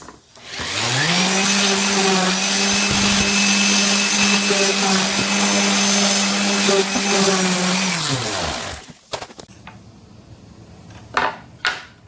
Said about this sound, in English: Now I'm going to go ahead and sand this groove out so we get a smooth slide in there.